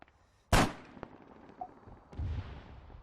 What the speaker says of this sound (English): I've just heard gunshots from within the rock.